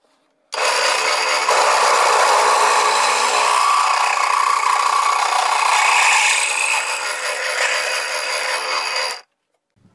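A drill boring holes in a milling jig, one loud continuous grinding whir close by that starts abruptly, holds steady for about nine seconds with slight shifts in pitch, then cuts off.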